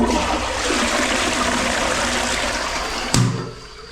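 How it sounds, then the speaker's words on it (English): A toilet flushing during drain cleaning, a steady loud rush of water that stops abruptly near the end with a short gurgling splash. "So I'll flush again."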